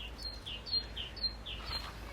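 A bird calls in short, high chirps repeated about four times at a steady rhythm, faint against a low background hum.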